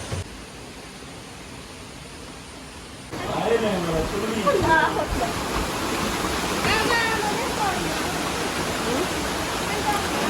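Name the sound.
waterfall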